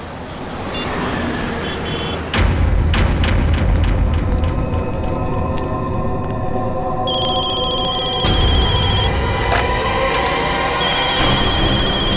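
A telephone rings repeatedly in a crime drama scene, a loud, sustained electronic ringing mixed with dramatic booming music.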